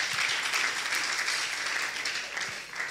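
Church congregation applauding warmly, a dense, steady patter of many hands clapping close by for the whole three seconds, easing slightly at the end.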